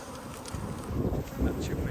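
A massive colony of angry killer honeybees, disturbed while being relocated, makes a faint, dense, continuous buzz that swells slightly in places and is mixed with some wind noise outdoors.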